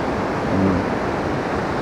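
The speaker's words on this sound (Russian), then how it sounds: "Сегодня море, ну, волнуется, видите, даже по-другому." Sea waves at Anapa on a December day, a continuous dense wash of surf with wind rumbling against the microphone, loud and close with no voices.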